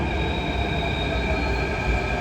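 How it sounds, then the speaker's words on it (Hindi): A Delhi metro train pulling into the station, a steady loud rumble and hum of the rail car with wheel noise, heard up close on the platform with no voices over it. "मेट्रो हमारी आ चुकी है।"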